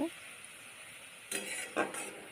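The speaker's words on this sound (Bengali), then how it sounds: "ভালোভাবে লাল করে ভাজবো" Chopped onions frying in oil for a Bihari-style meat curry, a steady soft sizzle with a few louder scraping stirs near the end, close by and with no talk.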